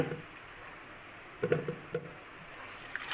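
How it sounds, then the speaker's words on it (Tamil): Washed taro roots go into a pressure cooker in a home kitchen, making a few soft, damp thuds and squishes clustered mid-clip, quiet and close, with no talking. "இப்போ குக்கரில் சேர்த்துக்கிறேன்"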